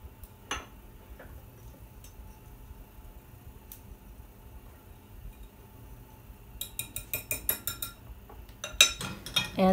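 A quiet room, then a whisk starts clinking rapidly against a bowl of cornbread batter, growing faster and louder toward the end.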